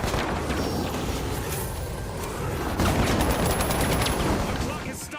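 Rapid gunfire and explosions from the shooter game The Finals rattle in dense, continuous bursts, loud and close, with a sharper burst in the second half.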